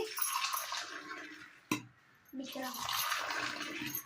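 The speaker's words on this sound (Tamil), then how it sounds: "இப்போ காய்ச்சி வச்ச பால் ஊற்றிடலாம்." Boiled milk poured into sweetened coffee, a steady close liquid splash that breaks off briefly after a sharp knock, then resumes and runs on to the end.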